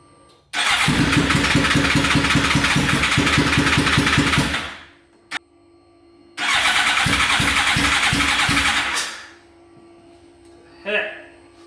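A Suzuki GSX-R 1000 motorcycle engine, under repair after a wreck, cranks and fires into a loud, close, rumbling run for about four seconds, cuts out, then starts and runs again briefly before dying.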